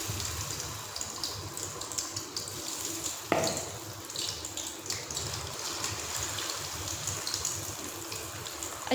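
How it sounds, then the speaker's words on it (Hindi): Cornflour-coated potato fries deep-fry in hot oil in a kadai, giving a steady, close, bubbling hiss that stays even throughout, with one brief sharper knock partway through. "अच्छे से आप लोगों ने इसको फ्राई कर लेना है।"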